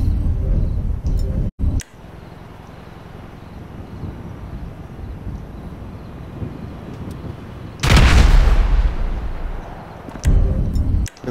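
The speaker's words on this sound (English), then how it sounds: "I'm gonna throw a sticky bomb in his ass." A sticky bomb goes off in Grand Theft Auto V, a loud broad blast bursting out partway through, following a sharp earlier crack and scattered gunfire over low rumbling ambience.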